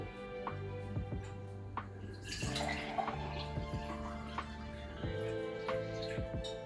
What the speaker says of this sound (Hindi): तो चलिए पहले सिडको वाला पानी इस पे भर लेते हैं।